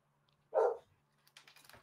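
A dog gives one sharp, fairly loud bark in an otherwise quiet room, followed by soft clicking noises.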